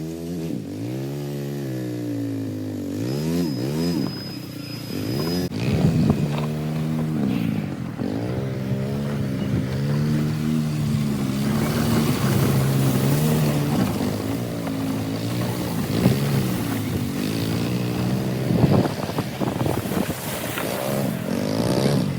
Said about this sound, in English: the golf cart does not do well in the snow with these old slick tires on it